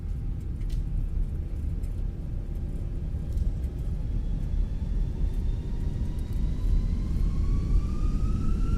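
Airbus A320 jet engines spooling up for a takeoff roll from Mumbai in Microsoft Flight Simulator, a deep continuous rumble with a rising turbine whine that climbs steadily in pitch as thrust builds.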